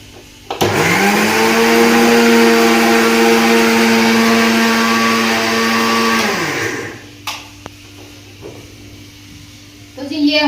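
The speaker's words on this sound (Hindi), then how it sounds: "इन सारे मसालों को मिक्सी में पीसकर इनका एक मिक्सचर बनाकर" An electric mixer grinder whirs while grinding a blend of spices, a loud, steady motor whine held for about six seconds before it winds down and stops, followed by a few faint knocks.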